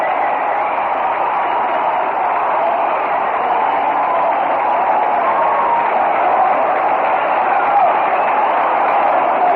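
Crowd of about 31,000 at a Reds baseball game against the Braves, a steady, distant roar of cheering that holds evenly throughout, with a thin, band-limited broadcast quality.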